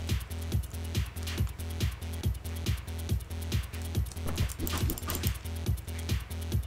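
Dog in the Hotline Miami video game, its barks and yelps mixed into a driving, steadily pulsing electronic beat, with quiet sounds of game action around it.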